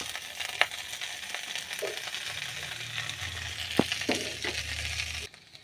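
Beaten egg stirred into moringa leaves frying in a pan: a continuous sizzle broken by sharp scraping clicks of a utensil against the metal, close and steady, with no talk.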